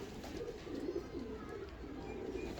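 Pigeons of a Frozpori breed cooing in a loft, soft repeated throaty rolling coos under a steady low background hum, fairly close, with no talking.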